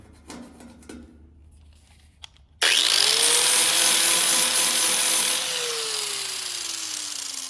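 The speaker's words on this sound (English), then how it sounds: "You don't have to grind your welds all the way smooth like this." An electric grinder works weld seams on a steel lower fender patch of a 1970 Chevrolet Monte Carlo, starting after a few quiet clicks and then whining loudly and steadily at close range, easing slightly in pitch near the end.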